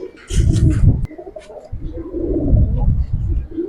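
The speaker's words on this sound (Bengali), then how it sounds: "আরো এক পেয়ার কবুতর আছে দেখে গেছি" Giribaz pigeons in a fancier's collection coo low and throaty in repeated bursts, loud and close, with a brief gap near the one-second mark.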